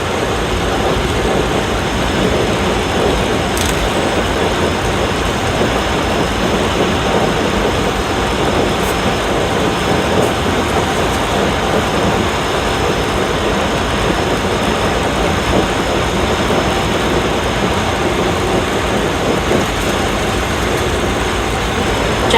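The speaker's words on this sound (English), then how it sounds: "Yeah, a little bit of rain today." Rain falls on a vehicle driving toward Las Vegas, a loud, constant hissing wash that blends with steady engine and road rumble throughout.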